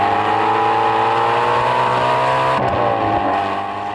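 Loud, steady revving of a Ford GT350's 5.2-liter V8 with an open-element air filter intake, a sustained high-pitched engine note that dips briefly near the end.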